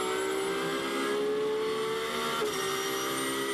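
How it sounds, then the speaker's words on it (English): Onboard sound of a Porsche GT race car at Imola approaching the Tamborello corner, a loud steady engine drone with a brief dip in pitch midway, continuous and close throughout. "So running on board, Porsche comes into Tamborello."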